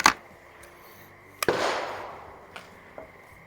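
A single shot from a Diana model 45 .177 spring air rifle firing Crosman Premier hollow point pellets at a 25-yard range: a sharp crack, then a short decaying twang, followed by a couple of faint clicks.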